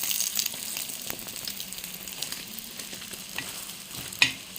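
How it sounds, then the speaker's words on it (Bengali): Eggs frying in a pan, a soft steady sizzle with occasional scraping or stirring sounds, faint and close, no talk. "ডিম ভাজা খরাম"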